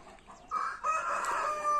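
A young rooster crows once in a brief, strained call, fairly close and clear against faint background noise.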